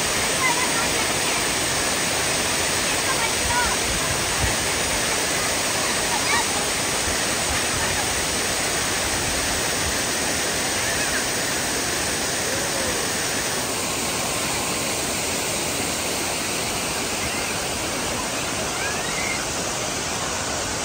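A waterfall pours with a constant, loud, broadband roar that holds steady and unbroken from start to finish.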